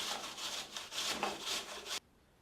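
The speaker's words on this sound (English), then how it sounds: "We're going to pull over our little shredder. And we're going to go with the coarse grated side." Apples rasp against the coarse side of a kitchen shredder in steady rhythmic strokes for about two seconds, close and fairly quiet, then stop.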